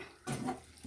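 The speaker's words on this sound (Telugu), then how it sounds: "కొన్ని నీళ్ళు పోసుకొని ఉడికించుకుంటా" Water poured into a pan for boiling broad beans, a brief splashing pour rising suddenly after a quiet start, moderately loud and close, with no one talking.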